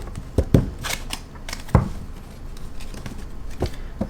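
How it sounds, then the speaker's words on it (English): Shuffling of a large tarot card deck, irregular quick riffling snaps and soft card slides in close, uneven bursts with short pauses, no talking. "I suck at shuffling sometimes."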